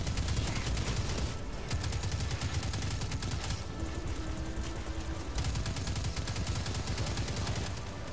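Gunfire from the video game Destiny 2 rattles on in dense, rapid automatic bursts, loud and nearly continuous, with only brief pauses between strings of shots.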